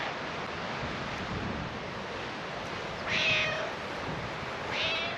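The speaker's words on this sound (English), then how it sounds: "I think Little Stripes is saying that she wants to go in" Outdoors in gusty pre-storm wind, a cat gives two short meows several seconds apart, clear over steady, loud wind noise.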